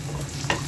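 Panch phoron with onion and garlic sizzling in oil as a tempering for gourd dal, a brief soft crackle and hiss close by, heard alone without talk.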